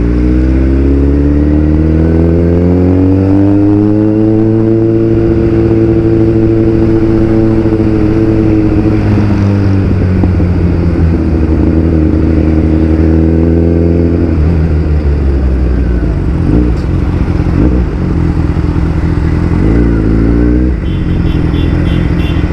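A Kawasaki Ninja motorcycle is ridden with a loud, close engine drone that climbs in pitch through several gears, eases off, then revs again, with road noise underneath.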